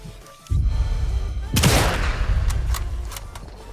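Enemy gunfire in the video game Sniper Elite Resistance, heard as a sustained, dense burst of shots with booming low rumble and one sharp louder crack midway, continuing steadily to the end.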